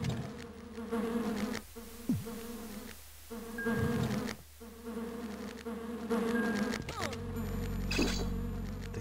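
Swarming spider mosquitoes in the video game Lands of Lore: The Throne of Chaos drone with a loud, continuous insect buzz that swells and dips in pitch, with short gaps and no talking.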